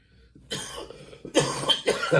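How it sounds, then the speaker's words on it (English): Several harsh coughs close to the mic, a short one followed by two louder bursts in quick succession, with no talking. "this is cough, and I knew this was going to happen"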